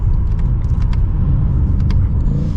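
A 2023 BMW M8 Competition Gran Coupe drives along with a loud, steady low engine and exhaust rumble from inside the cabin, broken by a few brief clicks, with no talking.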